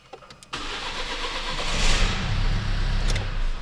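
A Renault Duster with a turbocharged engine cranks briefly and catches. It then settles into a steady, close idle with a low rumble, and no one speaks.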